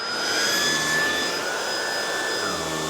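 A Hoover ONEPWR Emerge cordless vacuum cleaner runs steadily at close range, a constant loud whooshing roar with a high motor whine throughout and no talking.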